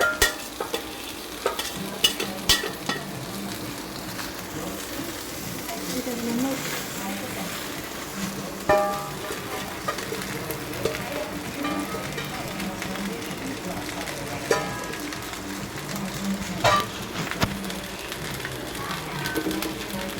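Cooked rice is stir-fried and mixed in a pan for hotel-style fried rice, giving a soft background sizzle broken by repeated clinks and scrapes of a utensil against the metal at an uneven rhythm.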